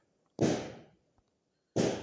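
Two booming explosion blasts in the Roblox game Blox Fruits, each a sudden loud burst decaying over about half a second, separated by near silence.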